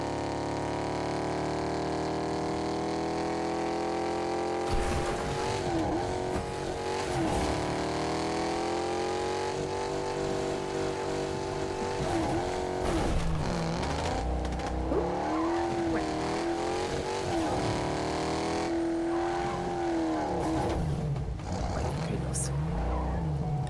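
Game car from GTA drives continuously with engine drone and tire squeals over a steady soundtrack, while people talk throughout.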